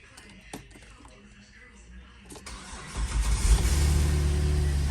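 A Chevy Impala engine cranks and catches partway through, then settles into a steady, loud running rumble close by, after a few earlier clicks.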